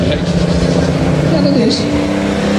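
A car engine revs hard at full throttle close by, a loud, sustained roar with a rising and falling pitch, while people talk over it.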